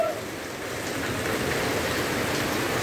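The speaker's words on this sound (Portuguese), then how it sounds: "Mas a chuva continua aí, graças a Deus. Tá chovendo." Heavy rain falls after a strong hailstorm, a loud, dense and steady hiss of downpour with no voices.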